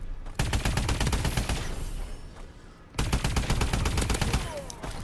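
Loud, rapid automatic gunfire and sniper shots from the game Call of Duty Advanced Warfare, with dense sustained bursts, a short dip in intensity, then heavy firing again.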